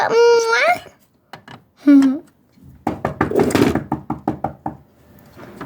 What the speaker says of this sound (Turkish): Aa kapı çaldı.